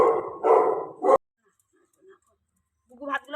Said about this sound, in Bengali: ওই কুকুরগুলো চেঁচাচ্ছে